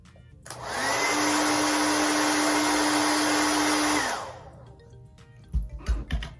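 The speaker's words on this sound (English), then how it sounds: "So do my friends think I'm gonna be able to blow this one over with the hair dryer?" A hair dryer switches on and blows with a steady, loud whir for about three seconds, then cuts off, followed by a few soft thumps.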